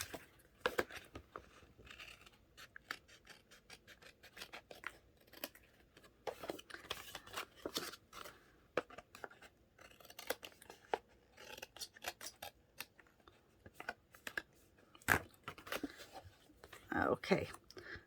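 Scissors snip and trim paper for a mini catalog in short, close, irregular cuts mixed with paper rustling, with a voice talking quietly in between.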